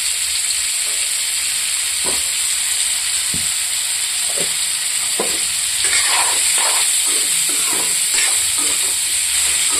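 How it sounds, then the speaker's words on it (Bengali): Cauliflower florets with a little salt and turmeric fry in a pan, a steady bright sizzle running throughout with scattered soft scraping stir strokes, close and fairly loud, no voices. "একটু লাল লাল করে ভাজবো"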